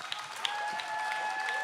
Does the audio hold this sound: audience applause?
yes